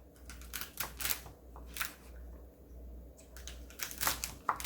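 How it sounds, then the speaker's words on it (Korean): A knife chops domestic Korean garlic scapes from Namhae into pieces about 3 cm long on a cutting board. The crisp chopping strokes come in quick clusters close by, with no talk. "먹기 좋은 크기로 썰어주세요."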